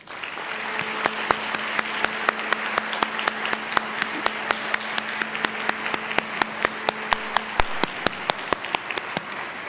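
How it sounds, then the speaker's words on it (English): Graduates at a university graduation ceremony applaud their family and friends, a full hall of steady clapping under a sustained hum, with sharp individual claps standing out regularly from the crowd. "I'd like you to turn around and face your family and friends and give them a mighty round of applause."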